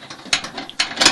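A ratchet wrench loosening long screws that hold a Sharp R-1870 microwave in a 2005 Winnebago motorhome, a few quick, crisp clicking bursts close to the microphone.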